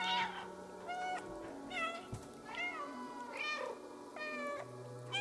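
Cat meowing in the video game Stray, a series of about six clear, close meows spaced evenly one after another, with a low game hum underneath and no speech.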